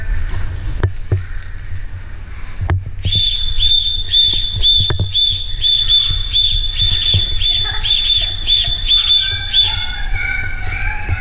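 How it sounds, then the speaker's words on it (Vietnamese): A whistle for calling otters is blown in a long series of short, shrill, evenly spaced toots, loud and close over a steady background of rushing noise. "Hôm nay là Tiêu đã đem theo cây còi gọi rái cá rồi nè."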